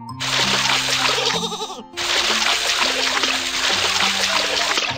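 Cartoon sheep-washing scene on a farm, with steady close splashing and trickling water running under bright music and sheep bleats, pausing briefly before resuming.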